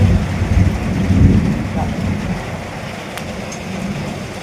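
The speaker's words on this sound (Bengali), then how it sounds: "বৃষ্টি পড়ছে খুব জোরে।" Heavy rain pours down at a large old temple, a dense, loud, steady wash of noise with no clear breaks.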